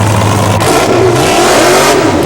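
Drag car with a 500 cubic inch iron-block Chevy engine doing a dry burnout, loud roaring engine with a sharp shift in tone partway through, sustained and close throughout.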